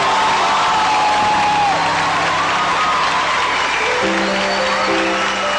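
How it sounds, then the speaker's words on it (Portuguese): A packed crowd at a Portuguese-language Catholic gathering applauds loudly and continuously, with whoops and cheering voices rising through the sustained roar of clapping. "Uma salva de palmas para Maria Santíssima"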